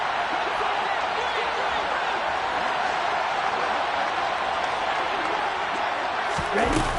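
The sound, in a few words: stadium crowd rising in football video game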